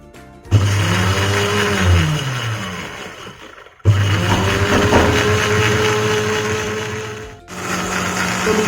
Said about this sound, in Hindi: चलाते हैं ब्लेंडर को।